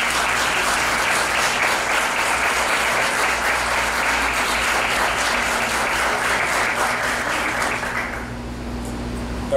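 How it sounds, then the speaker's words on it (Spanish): An indoor audience at a swearing-in ceremony breaks into dense, steady applause that stays loud for several seconds before tapering off near the end. "Démosle un aplauso a su gigante."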